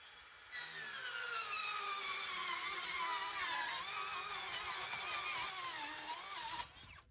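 A DeWalt 20 volt cordless circular saw, the DCS565 6.5-inch model on a FlexVolt battery, rips through two stacked sheets of half-inch plywood, with a loud sustained whining cut that starts abruptly and stops near the end.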